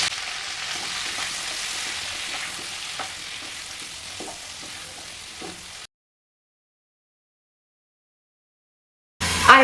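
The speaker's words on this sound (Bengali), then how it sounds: "হালকা লাল লাল করে ভেজে নিতে হবে" Potatoes and cauliflower fry in a wok, a steady close sizzle with scraping stir strokes for about six seconds, then silence before a brief loud clatter.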